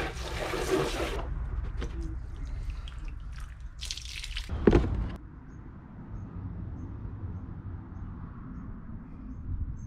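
Fabric being rinsed under running water in a sink, with bursts of splashing and dripping, a louder gush around the middle, then quieter trickling; no talking.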